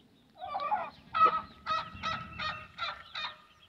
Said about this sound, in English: Right now she's calling for her flock.